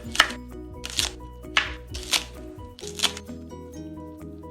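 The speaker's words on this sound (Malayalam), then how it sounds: "ഇനി നമ്മൾ പച്ചമുളക് ചോപ്പ് ചെയ്തിടാം." A knife chops green chillies on a cutting board in a kitchen, five or six crisp, evenly spaced strikes over a steady background of music.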